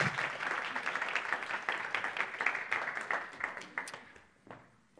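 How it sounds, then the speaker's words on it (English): A church congregation at an Easter service claps together in a dense, steady burst of applause that thins out and fades toward the end. "Everybody clap for Gindrew."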